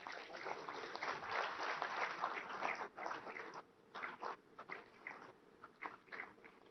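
Applause from an audience gathered at a ceremony welcoming India's Prime Minister by video link for the Ghogha ferry service inauguration, a faint, sustained patter of clapping that thins into scattered bursts toward the end.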